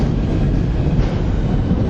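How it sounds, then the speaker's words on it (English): Heavy low rumble of a passing train, loud and steady throughout with no pauses, rolling close by outside a massive golden palace building. "It's just a train. Thought it was an earthquake"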